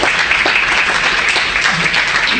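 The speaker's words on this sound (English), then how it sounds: "Everybody applaud for Sujata." An audience at an annual general meeting claps for an event organiser, a dense continuous wash of applause filling the room without a break.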